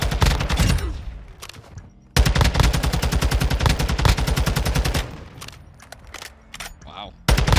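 Rapid automatic gunfire crackles in Modern Warfare 2, loud close bursts of dense rattling shots broken by brief pauses, with a few single shots near the end.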